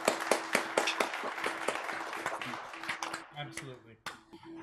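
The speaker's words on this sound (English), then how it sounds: "Round of applause for Little Richard" A small audience claps for Little Richard, brisk close-by claps that start strong and thin out to a few scattered ones, while voices talk over the clapping.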